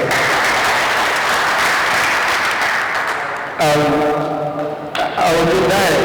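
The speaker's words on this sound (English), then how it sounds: "You can please give a round of applause for yourselves" An audience at an ECOMANSA opening ceremony applauds itself, loud dense clapping in a reverberant space that thins out as a voice begins speaking over the tail.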